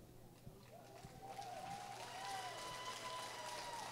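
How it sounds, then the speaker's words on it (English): Crowd applause and cheering swell at an eventing finale for a Thoroughbred Makeover horse competition, a broad steady wash of clapping that builds after a second and holds, with a faint whistle-like tone rising through it. "Big applause"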